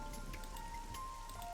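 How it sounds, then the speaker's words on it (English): Steady rain pours in the Ace Attorney Investigations video game, a continuous even hiss of drops on a city street among skyscrapers, with a faint sustained tone running beneath and no talking. "This rain is depressing."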